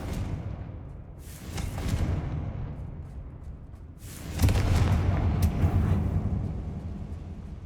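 A Confringo spell blast in the Hogwarts Legacy video game, a booming explosive burst followed by a rumbling roar that swells again midway, loud and close with a whooshing edge.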